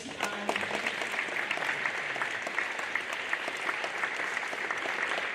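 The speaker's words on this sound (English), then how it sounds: "So a big round of applause for all those folks." An audience at a school recognition assembly claps continuously, a dense, even crackle of many hands held at a steady level from start to finish.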